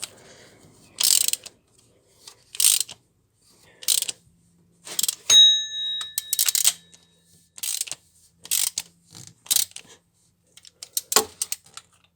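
A ratchet with an E10 Torx socket turning bolts on a Mercedes-Benz OM611 engine, heard as close, loud bursts of rapid clicking repeated about eight times with short silent pauses between strokes.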